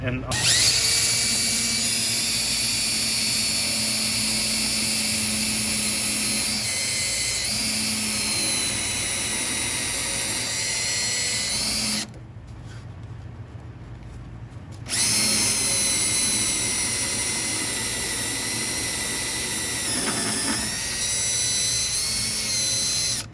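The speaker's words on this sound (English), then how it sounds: "This is the special extractor bit. And it digs in deeper" A power drill with an extractor bit grinding into an agraffe on a Steinway Model B piano, a loud, close, sustained high whine with a brief pause midway before resuming, no speech.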